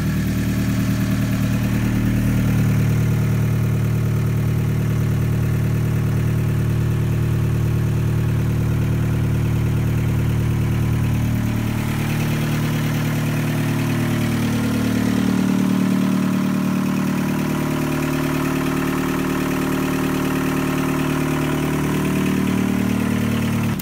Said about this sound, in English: One thing with the diesel, it's kind of nice, there's no choke or anything. Just hit the key, so hopefully she fires up.